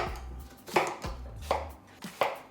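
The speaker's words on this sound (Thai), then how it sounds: "หั่นเรียบร้อยแล้วนะครับ" A knife chops celery and apple steadily on a cutting board, crisp thuds in an even rhythm, close and fairly quiet, with no voices.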